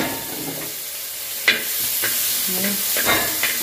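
Onions and green chillies fry in a pan, with a continuous hiss of sizzling broken by several sharp scrapes and clatters of stirring, fairly close and with no talk over it.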